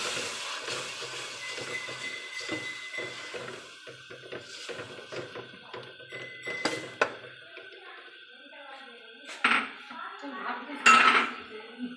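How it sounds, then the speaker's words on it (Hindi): Masala with added yogurt sizzles and roasts in a pan for potato bhurta, a steady hiss under busy metallic clatter of a spoon scraping and knocking the pan, with a few louder clanks near the end. "जो हमारा मसाला है ना वो भुन रहा है।"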